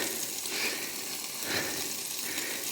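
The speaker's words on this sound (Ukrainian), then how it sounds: "а це хай собі все само печеться, смажиться, шкварчить" Steady sizzling and frying of bread baking in a pan, a continuous crackling hiss with gentle swells, close and fairly loud.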